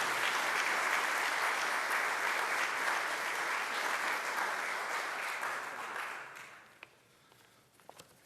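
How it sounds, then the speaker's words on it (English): A round of applause from the audience at a mayor's press conference for a plumbing and fire code bill signing: sustained, fairly distant clapping that thins and fades out near the end, leaving a few scattered claps. "Can we have a round of applause and welcome, please, Walt and John."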